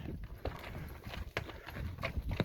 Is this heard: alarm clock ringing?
no